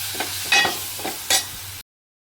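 Ridge gourd vegetable dish frying in a pan, with a steady sizzle broken by two or three louder scraping stirs, close and fairly loud, lasting under two seconds before it cuts to silence.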